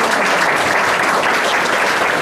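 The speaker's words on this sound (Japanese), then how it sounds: "大きな拍手をお願いします" An audience at a classical-literature lecture event applauds, a dense, even wash of clapping held at full strength for the whole moment, with no talking over it.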